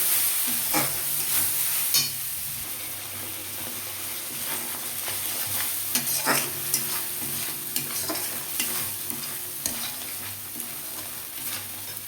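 Spice paste of turmeric, salt and a little sugar fries steadily in a pan, with a continuous sizzle and the sharp scrapes and clicks of a spatula stirring it every second or so.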